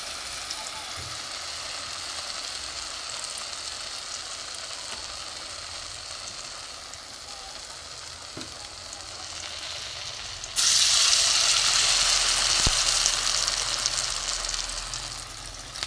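Prawn patoori wrapped in bottle gourd leaves sizzles in oil in a wok, a steady crackling hiss that jumps in loudness as more pieces go in, without speech.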